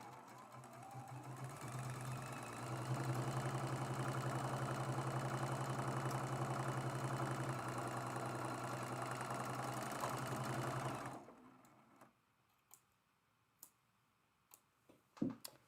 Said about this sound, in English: I'm just going to spin this right back around and sew back the other way.